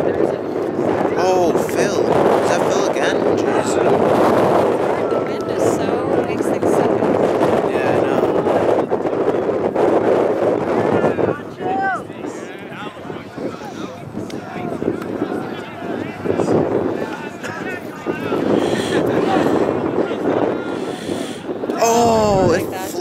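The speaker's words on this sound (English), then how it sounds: "The wind is so weird." Gusty wind buffets the microphone at an outdoor ultimate frisbee regionals game, a loud continuous roar with rising and falling surges, while spectators chatter and call out over it.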